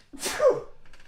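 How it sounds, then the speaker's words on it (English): A single close, sharp sneeze bursts out after a brief inhale, then fades into quiet. "Sneeze it out"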